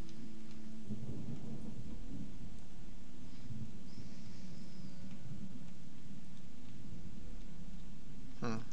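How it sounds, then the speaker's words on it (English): Rain falls with rolling thunder in the video game Gothic II, a low rumble swelling over a steady hiss of rainfall, moderately loud and continuous. "I really wish it would stop raining, like seriously."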